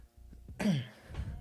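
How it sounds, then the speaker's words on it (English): A single short cough, close and fairly quiet, follows a few soft breaths and is trailed by faint low rustling. "Corona cough"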